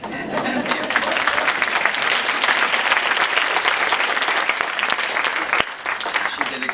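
Sustained applause fills a conference hall as an audience claps for a seated guest, dense and steady throughout with a few sharper claps standing out near the end.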